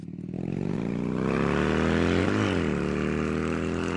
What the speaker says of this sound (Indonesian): motor itu pun menyala